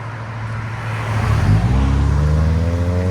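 A 2007 Toyota Highlander with a 2.4L engine and a Borla Pro-XS exhaust, rising from a quiet idle into a loud, close rev that holds with a deep, rumbling tone.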